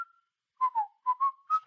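A person whistles a tune, a short clear phrase of several pure notes in a cheerful rhythm, close and alone.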